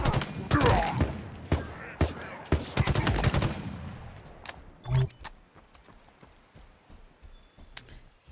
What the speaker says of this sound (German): da gehen glaube ich auch einige Schüsse daneben